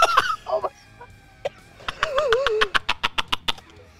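A man imitates a rooster crowing with a rising, wavering vocal call, followed by a run of sharp, rhythmic clucking bursts, loud and close.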